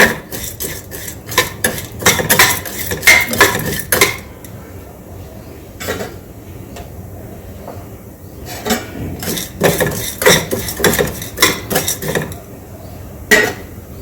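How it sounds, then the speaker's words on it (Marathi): Repeated metal clanks and scrapes of a spatula against a pan while roasting ingredients brown for red chutney, in irregular bursts, fairly close and loud, with pauses in between. "ही छान रोस्ट करून घ्यायचं आहे ब्राऊन होतपर्यंत याला जायचं नाही आहे फक्त ब्राऊन होतपर्यंत याला छान परतून घ्यायचं आहे"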